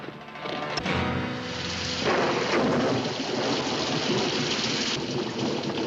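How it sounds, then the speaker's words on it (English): Heavy rain pours steadily throughout a thunderstorm in a Western setting, with rolling thunder rumbling near the start and a loud continuous downpour filling the rest, no one speaking. "We can't go much further in this rain."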